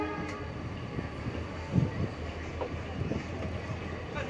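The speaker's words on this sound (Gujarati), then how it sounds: "ટ્રેક બદલાવી રહી છે ટ્રેન." A passenger train rumbles steadily while crossing points to change tracks on its approach to a junction, with occasional clanks and knocks from the wheels over the rails, heard from on board.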